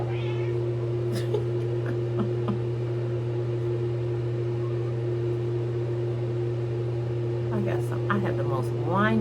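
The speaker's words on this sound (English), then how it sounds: "She in here hollering, child. It's the cat. Y'all hear her?" A cat meows and hollers in whiny, rising cries, loudest near the end, over a steady electrical hum and faint indoor background.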